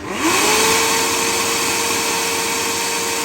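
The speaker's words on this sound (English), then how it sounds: "So there's the blender." A small kitchen blender powered by an ALLPOWERS S300 PLUS portable power station, its motor spinning up quickly and then holding a loud, steady whirring drone close by.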